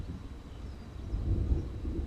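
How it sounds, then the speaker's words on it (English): A low, rolling rumble of thunder swells gradually in the distance, deep and steady, without any voices. "oh, more thunder."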